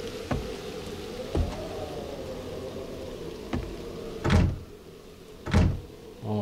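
Several doors open and shut in the survival zombie game 7 Days to Die, with sharp thuds and two heavier, longer slams near the end over a steady cold wind.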